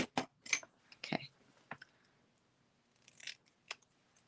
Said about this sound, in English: And where are my small scissors?